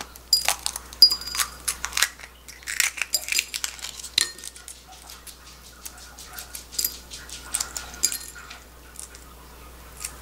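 Shell peeled by hand from a cooled stone-baked egg, roasted on maekbanseok stones: a run of small close crackles and crisp ticks, irregular and quiet over a soft low hum, with no talking.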